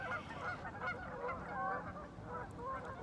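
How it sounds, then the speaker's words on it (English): Geese honking nearby in a quiet outdoor setting, several overlapping nasal calls repeating irregularly over a soft background hush, fairly faint overall. "You can hear the geese behind me"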